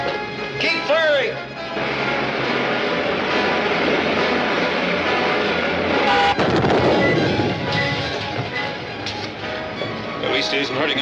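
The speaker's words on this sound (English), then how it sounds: "Keep firing!" Sci-fi ray gun fire from a 1953 Commando Cody movie serial crackles in a dense, continuous barrage of blasts and zapping sweeps, loud and close, with a heavy burst midway.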